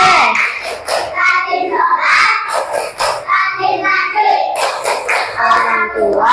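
Children chant the tepuk anak soleh rhyme in unison and punctuate it with quick rhythmic hand claps. Their singing voices dominate, and the claps sit close within the chant.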